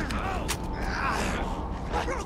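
A broken door creaks in the horror video game Alan Wake 2, a drawn-out, wavering groan of strained wood and hinges that fills the moment, with faint breathy sounds beneath.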